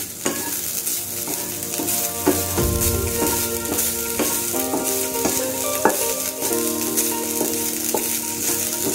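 Chana dal roasting in a hot pan sizzles steadily up close while a spoon stirs and scrapes it, with repeated metallic clinks and scraping strokes over the continuous frying hiss.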